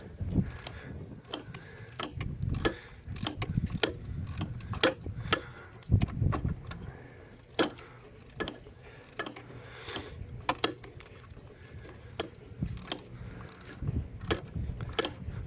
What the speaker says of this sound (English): So this ratchet is going to help you out tremendously.